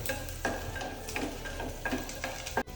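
Pasta being stirred in white sauce in a pan, with repeated scraping strokes about every half second over a soft sizzle, ending in a sharp knock.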